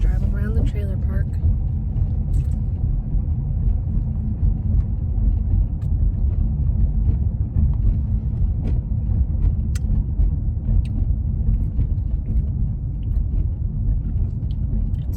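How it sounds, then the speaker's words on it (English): A car rolls slowly around a trailer park, its low engine and road rumble steady and close from the cabin, with a person talking over it throughout. "Just driving around the trailer park."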